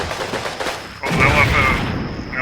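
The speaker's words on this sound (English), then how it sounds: "That was a good rifle grenade" Rifle grenade explosion in the wartime tactics game Combat Mission Red Thunder, a sharp loud blast with rumbling after it, following a few earlier gunshot cracks.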